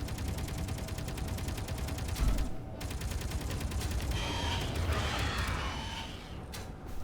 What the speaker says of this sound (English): Just gotta stand up so the turrets are able to attack these guys